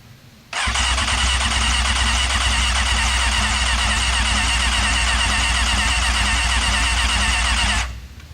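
A 1998 Kawasaki ZX6R motorcycle engine in poor, neglected condition cranks over loudly and continuously for about seven seconds, then the starter cuts off abruptly without the engine catching.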